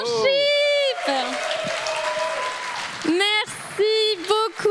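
Church café audience applauding a gospel worship performer, a burst of clapping and cheering under and between a host's excited spoken calls.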